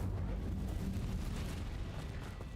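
Incendio fire spell cast in Hogwarts Legacy, a faint, low, steady roaring whoosh of flame that lasts the whole moment without distinct bursts.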